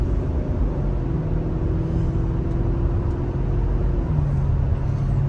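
A Mercedes-Benz SL500 on Neomax coilovers drives along, giving a steady, low engine and road rumble with constant tyre noise and no speech.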